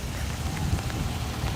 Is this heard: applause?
no